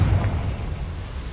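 A Confringo blasting spell detonates inside a small mine in the Hogwarts Legacy video game, a short, deep booming explosion that rumbles low and fades quickly.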